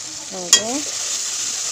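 Bora fritters fry in hot oil in a pan, a steady high sizzle running throughout, with a brief clatter of stirring in the middle.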